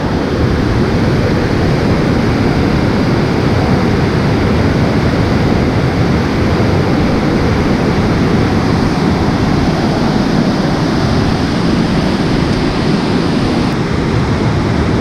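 A South Carolina waterfall roars as a loud, steady, dense rush of falling water, unbroken and close for the whole stretch, with no voices.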